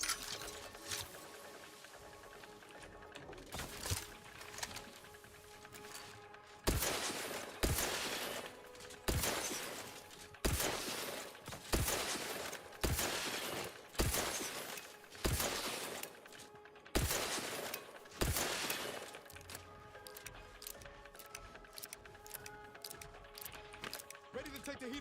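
Bursts of gunfire come from a weapon in the video game Outer Worlds 2, firing in sharp repeated volleys with short gaps, loud and close, over a background of game music and ambience.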